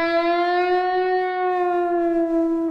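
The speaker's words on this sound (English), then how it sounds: "you're gonna hear it, you know, like slowly changing pitch," A guitar string is bent slowly from E up to F, making one loud, sustained note that glides gradually upward and rings on steadily without other sounds.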